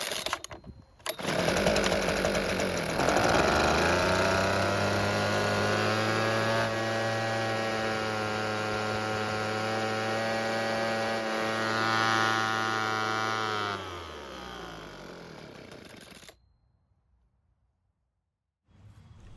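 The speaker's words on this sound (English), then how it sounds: "it starts and runs great in half choke and high idle, but off choke, it stops." Husqvarna leaf blower engine running at high idle on half choke with the air filter removed, a loud steady buzzing drone that starts abruptly, holds evenly, then sags and cuts out, leaving near silence.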